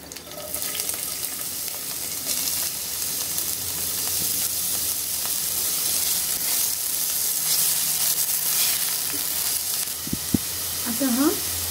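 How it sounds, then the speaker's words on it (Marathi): Curry leaves frying in hot oil for a South Indian chicken curry, giving a loud, steady sizzle close by that holds throughout, with a few sharp pops and crackles near the end. "कढीपत्ता टाकूया, थोडं परतून झालं की आपण त्याच्यामध्ये कांदा टाकूया।"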